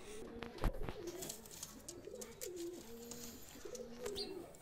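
Pakistani high flyer pigeons coo in repeated rolling phrases against a hissy background, with a sharp knock near the start.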